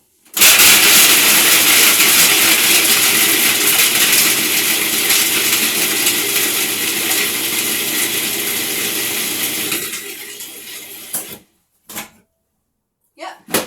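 A food processor blends cacao nibs for cookie dough with a loud, steady whirring grind for about ten seconds, then stops, leaving a few brief knocks.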